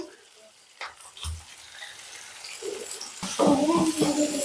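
Onions fry in a pan with a soft, hissing sizzle that grows louder toward the end, broken by a few clinks and a voice speaking near the close.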